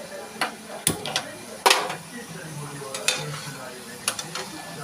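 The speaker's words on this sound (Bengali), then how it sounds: "মশলাটাকে ভাজা ভাজা করব।" Spices fry in a pan for a hilsa curry with eggplant and potato, with scattered clinks and scrapes of stirring over a low, steady background, and a few sharper knocks of the utensil against the pan.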